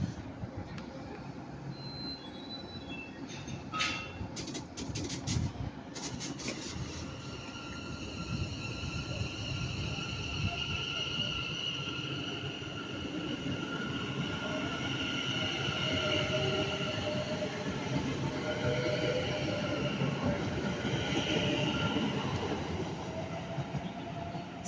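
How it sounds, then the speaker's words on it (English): A London Northwestern Railway service to Birmingham New Street runs through Stafford station with a steady, loud rumble of wheels and carriages, and brief high squeals and clanks early on before a sustained whine and roar. "the 1340 London North Western Railway service to Birmingham New Street"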